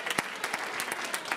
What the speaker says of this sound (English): I also want to give a big round of applause to our judges